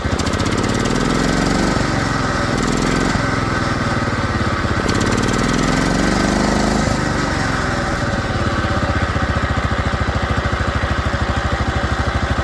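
A Case garden tractor engine running on stale brown gasoline, a loud close continuous drone that dips and recovers in pitch a few times while the idle mixture is adjusted, with no voices.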